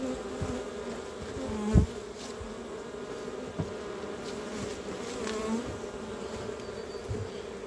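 A dense, steady hum of many honey bees buzzing close by during a basswood honey harvest as frames are shaken, with occasional soft knocks and thumps underneath.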